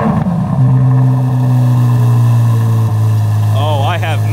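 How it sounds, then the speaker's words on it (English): A Corvette Z06 engine settles into a steady, loud idle, with a deep rumbling drone that holds throughout and some faint higher whirring near the end. "So let's start the car up, let it warm up."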